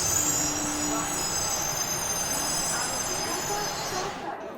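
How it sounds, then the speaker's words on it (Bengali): A passenger train pulls into the down platform of a railway station, its steady rumble and faint wheel squeal filling the scene before the noise drops away at the very end. "ডাউন প্ল্যাটফর্মে একখানা প্যাসেঞ্জার ট্রেন সশব্দে এসে দাঁড়ালো।"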